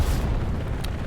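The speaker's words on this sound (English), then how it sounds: "Satchel goes off." A satchel charge detonates in the Hell Let Loose battle game as a heavy, sustained low boom that rumbles through the whole moment, loud and close.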